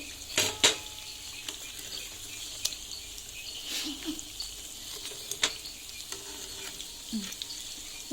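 Raw jackfruit vadas are lifted out of hot frying oil, with soft sizzling throughout, scattered metallic clinks and scrapes of a ladle against the pan, and a few sharper taps spread out over several seconds.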